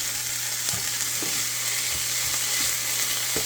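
Frozen vegetables and onion cooking in a hot pan beside eggs, a dense, even close-up sizzle with a few soft clicks of the utensil, no voices.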